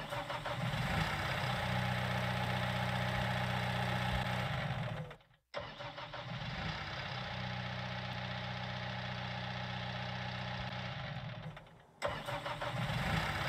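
Manitou fire brigade telehandler in Farming Simulator 19 cranks and starts twice, each time settling into a steady mid-pitched diesel idle before shutting off briefly, heard alone without talk.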